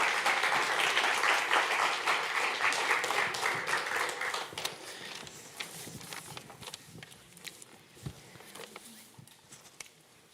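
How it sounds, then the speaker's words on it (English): Audience applause welcomes panelists onto the stage at the IMPAKT Festival 2024 Woke Award, starting as dense, full clapping and gradually thinning and fading, with a few scattered claps near the end. "Give them a warm applause."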